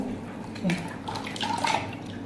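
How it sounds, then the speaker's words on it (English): Water pours into a bowl while liquid soap is being made, giving a steady splashing, trickling stream with small gurgles that swell slightly toward the end. "You measure the water into your bowl"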